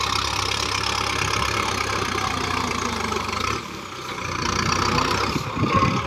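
A turbocharged tractor engine idles steadily with a low rumble and rattly knocking, dipping briefly then picking back up; no voices.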